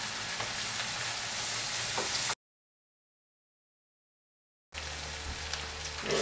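Minced garlic fries in a pan for a chicken biryani. A steady, crackling sizzle plays close and even, cuts off for a couple of seconds of silence, then returns just as busy.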